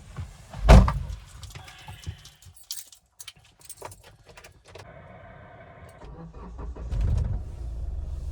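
A car door shuts with a loud thud and keys jangle, followed by the car's engine starting and a steady drive-off hum that builds toward the end.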